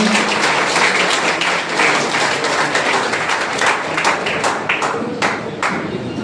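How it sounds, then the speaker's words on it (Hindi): Dense, steady applause from an audience at a college voter-awareness event in Madhepura, many hands clapping loudly and continuously without any talk over it. "आप जोरदार ताली से स्वागत करना चाहिए।"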